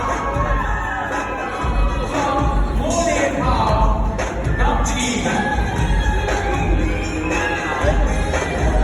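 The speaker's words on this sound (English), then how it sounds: "Please give a round of applause for Firstly Roy Gao" A crowd cheers and applauds for a contestant at the Tyrshi Queen beauty contest, a loud, continuous wash of whoops, shouts and clapping with a voice speaking over it throughout.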